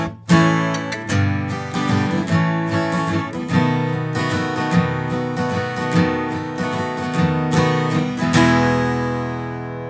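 A six-string acoustic guitar part recorded twice and layered to imitate a twelve-string, giving a shimmering, naturally chorused ring. Strummed and picked chords ring out steadily at close range with no talking.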